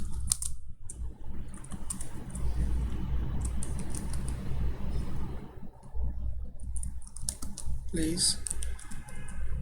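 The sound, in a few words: typing on a computer keyboard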